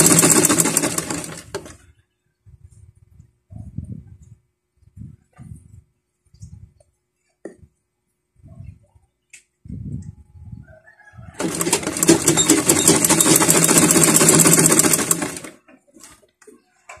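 A sewing machine stitches a fabric scrunchie in two loud bursts of rapid mechanical whirring, one brief at the start and a longer run near the end, with quiet soft clicks and faint sounds between.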